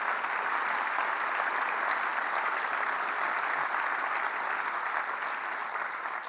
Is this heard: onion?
no